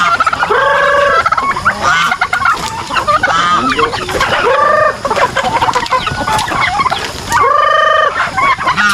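Farm fowl, chickens and turkeys, being fed yellow and young corn, keep up loud, close clucking and gobbling calls in repeated bursts across the whole stretch, with a busy overlapping flock chatter.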